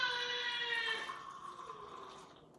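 Lemon juice pours briefly into a food processor, a soft liquid trickle that rings a little against the bowl and fades out within about two seconds.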